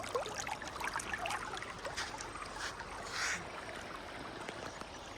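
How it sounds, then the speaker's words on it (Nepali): The clear Baijnath river flows steadily, a continuous broadband rushing and trickling wash with small splashy bursts near the water, and no one speaking. "कति कञ्चन खोला बगिरहेछ हेर्न सक्नुहुन्छ तपाईहरुले"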